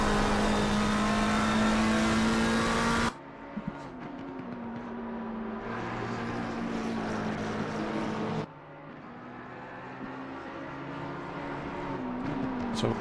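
A McLaren race car roars around Brands Hatch in Assetto Corsa Competizione, loud and revving, with the engine note dropping and changing sharply twice as it shifts or passes, then climbing again.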